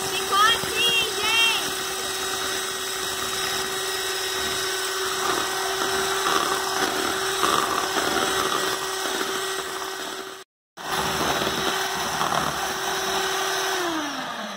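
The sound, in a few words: electric mixer whipping egg whites to stiff peaks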